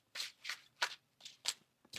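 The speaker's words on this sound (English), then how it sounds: "One more shuffle here." Tarot cards are shuffled by hand in six quick, crisp riffling bursts spaced evenly apart, close and fairly quiet, with no talking.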